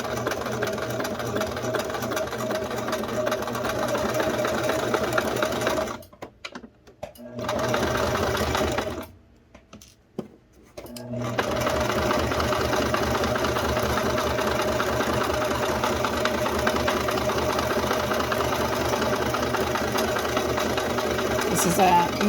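An industrial-style sewing machine stitches up a trouser J-fly toward the waistband with a 1/2 inch seam allowance, running in a steady mechanical whir that halts twice briefly before resuming, with a voice talking over parts of it.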